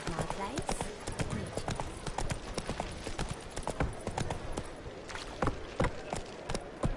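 Roach, the horse in The Witcher 3, gallops in a brisk, rhythmic clip-clop of hooves that runs throughout, heard near and clear while someone talks over it.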